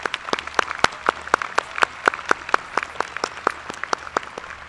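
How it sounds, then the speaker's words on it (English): A small audience at a Clear Lake High School graduation ceremony claps in sharp, distinct, evenly spaced claps, sparse and close, continuing throughout with no talking. "please join me in applauding all the people that worked around the scenes to get you here tonight"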